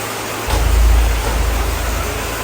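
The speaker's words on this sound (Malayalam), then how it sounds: "നല്ല മഴ ഉണ്ട്." Heavy rain pouring steadily, a dense broadband hiss with a deep low rumble swelling early on, close and loud with no voices.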